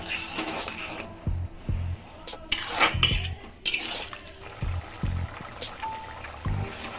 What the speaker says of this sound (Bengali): তারপর আরেকটু জল দেবো